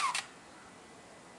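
A Nikon L35AF compact film camera fires its shutter release, a single short, quiet click right at the start, followed by faint room hiss.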